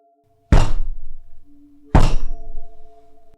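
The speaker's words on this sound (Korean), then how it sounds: "오두막집의 뒤편이 무엇인가에 강하게 얻어맞았다." Two loud, heavy bangs strike the back wall of a wooden cabin, a deep thudding impact sound effect, each blow booming and then fading over about a second with a low hum underneath.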